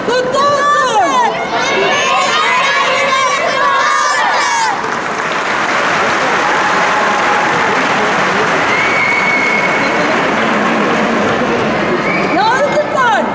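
Crowd applause at a 29 October Republic Day ceremony in Erzincan as a scout group of young pupils salutes the officials: steady dense clapping mixed with cheering and children's shouts, with voices calling over the crowd at the start and end.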